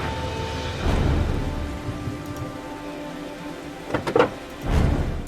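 Heavy rain pours steadily in the video game Heavy Rain, a dense hiss with a few sharp thuds and bursts of thunder-like rumble toward the end, no voices.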